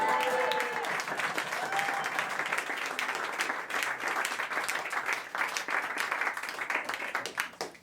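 A comedy-club audience applauds steadily throughout, a dense, continuous clapping with a little crowd murmur underneath and no clear talking.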